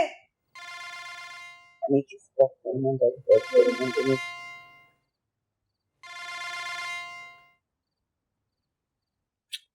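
A telephone rings unanswered in repeated electronic bursts, with pauses between them, and a voice talks briefly in between the rings.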